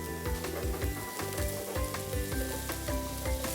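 Mushrooms and shallots sizzle in a hot pan over high heat, a loud, constant crackling fry with scattered pops and stirring scrapes, close up and with no talking.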